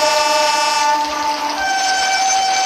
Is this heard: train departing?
yes